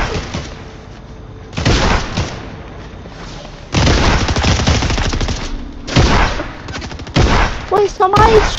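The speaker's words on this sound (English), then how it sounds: "Somebody's trying to shoot us already?" Bursts of gunfire in the online shooter game Fortnite, several loud volleys of rapid shots separated by brief lulls, with faint voice-like sounds in between.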